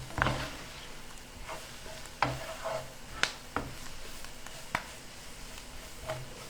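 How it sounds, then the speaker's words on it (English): Flour toasts in a skillet for a mushroom pot pie, stirred with a utensil that scrapes and taps the pan several times over a quiet background sizzle. "let the flour get a little bit toasted"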